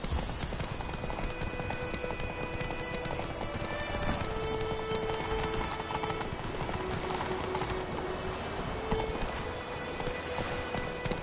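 Geralt's horse Roach in the video game The Witcher 3 gallops with a fast, continuous drumming of hooves close by, joined by a faint whinny and rain-like ambience.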